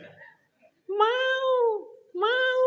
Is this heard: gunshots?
no